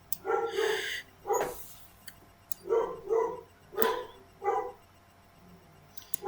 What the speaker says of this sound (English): my dogs are being so chaotic downstairs right now